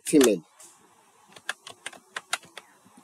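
Typing on a computer keyboard while entering data in Microsoft Access: a quick run of about ten crisp, evenly spaced key clicks, close and fairly quiet, after a short spoken syllable at the start.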